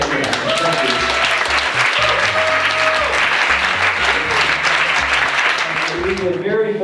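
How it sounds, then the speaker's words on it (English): Audience round of applause at an ultrarunning event gathering, loud sustained clapping filling the room, with music playing underneath. "So we can get a round of applause for those who are making it happen."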